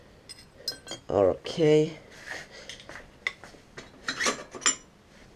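Small metal parts, a spacer and a nut, clink and rattle in short bursts while a supermoto wheel axle is assembled in a workshop. A voice speaks briefly.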